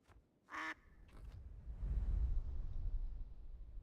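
A cartoonish duck quack sounds once in a whacky video game, short and nasal, then gives way to a low rumbling swoosh of wind or movement that builds and lingers.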